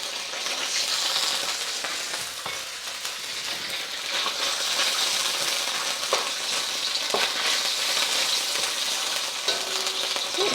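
Ginger sizzles in hot vegetable oil over medium heat, a steady close frying hiss with occasional pops and light stirring scrapes that continues throughout without any talking.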